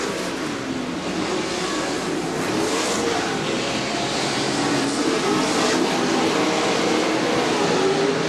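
Off-road race trucks run the Chula Vista course in a CORR event, climbing Thrill Hill into turn 1, giving a steady, continuous broadband engine roar throughout with no clear breaks.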